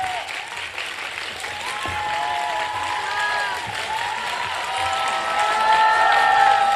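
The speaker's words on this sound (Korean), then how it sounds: "박수로 적극 환영해 주세요" Sustained applause and light cheering from a lecture audience welcoming Foreign Minister Kang Kyung-wha at Ewha Womans University, a steady crowd clapping that swells slightly toward the end, with faint voices mixed in.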